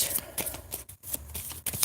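Crystal cards are shuffled in quick, soft bursts of papery rustling and flicking close by, with a brief pause midway.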